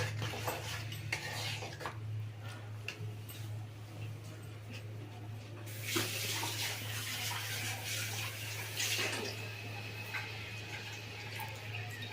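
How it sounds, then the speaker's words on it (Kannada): Water is added to a cooking pot of fried moong dal, vegetables and tomato, with faint splashing and clinking of utensils against the pot in a quiet kitchen. "ಸ್ವಲ್ಪ ನೀರು ಹಾಕ್ಕೊಳ್ತಾ ಇದ್ದೀನಿ ತುಂಬ ಗಟ್ಟಿ ಇದೆ ಅದಕ್ಕೋಸ್ಕರ"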